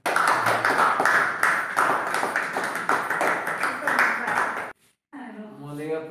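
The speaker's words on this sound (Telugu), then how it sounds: "మనందరికి ఒకసారి చప్పట్లు." Applause from an audience at a gathering: dense, sustained clapping that stays loud for several seconds before cutting off abruptly. A speaking voice follows afterward.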